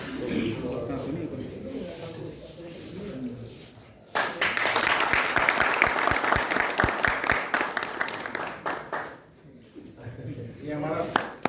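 An audience at an electricals trade meet in Sikar bursts into loud, sustained applause welcoming guests to the stage, the clapping swelling then fading, with someone speaking over a microphone before and after.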